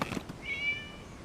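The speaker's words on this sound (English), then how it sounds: "It was just a cat." A single short cat meow in a Genshin Impact game cutscene, a clear, fairly faint high cry rising then falling, heard alone against quiet background.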